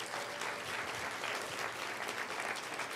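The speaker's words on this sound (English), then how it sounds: "Let's give them another round of applause." Audience at a live climate event claps in a dense, continuous wash of applause, fairly distant and even throughout.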